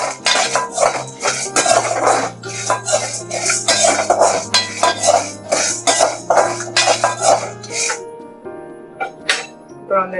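Moringa leaves and dal roasting in a pan over a low flame while a spoon stirs them, giving repeated close scraping and clinking strokes over a steady low drone.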